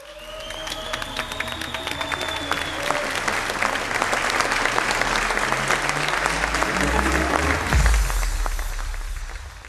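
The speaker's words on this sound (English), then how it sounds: "I think the company deserves a big round of applause." Sustained applause from a conference audience at an IoT industry expo, dense and steady throughout, swelling slightly toward the end, with faint voices mixed underneath.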